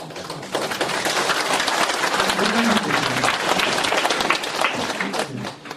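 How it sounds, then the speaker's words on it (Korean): A lecture hall audience claps to welcome a lecturer at a humanities and philosophy forum, a loud, sustained burst of many hands that swells after a brief start and carries on evenly, with faint murmuring voices underneath. "우리 강의자 선생님 올라가시면 여러분들 큰 박수로 환영해 주시기 바랍니다."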